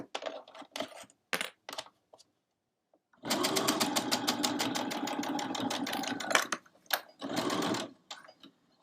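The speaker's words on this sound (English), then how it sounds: "I'm just going to do my locking stitch" A sewing machine stitches a locking stitch on a stocking: a few short bursts of stitching, then a steady rapid run of about three seconds, a brief pause and one more short run, close and clear.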